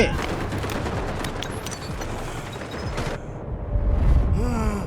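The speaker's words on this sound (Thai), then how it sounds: "ยิงโหดกระโดดยิง" Close, rapid bursts of gunfire in a Garena Delta Force match ring out under excited talking in Thai, fading into quieter game sounds near the end.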